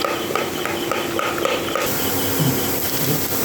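Onions fry in hot oil in a pan for an egg torka, giving a steady loud sizzling hiss that runs without a break and has faint stirring clatter, no talk.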